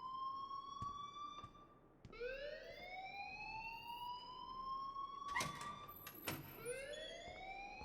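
An alarm in the video game Life is Strange wails in repeated rising, siren-like sweeps, steady and fairly loud, with a few sharp clicks between cycles and no talking.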